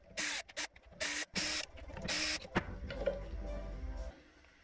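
3D printer running to test GT2 belt tensioning, its stepper motors sounding close in short bursts of whirring and buzzing with brief gaps between them, then a quieter stretch of low mechanical hum.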